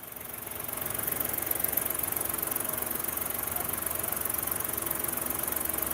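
A car engine running at a steady idle, with an even, continuous rumble that holds at the same level throughout and no voices.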